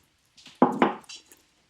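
Apricots being mixed with homemade apricot jam in a bowl: two close, wet squishy clatters a moment apart with a lighter scrape after, alone without talk.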